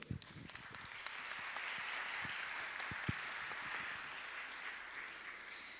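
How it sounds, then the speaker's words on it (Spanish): Audience applause for a professor at an academic panel, a sustained crowd clapping at moderate distance that swells after a few sharper early claps and then holds steady. "les pido un aplauso al profesor Ricardo Sol"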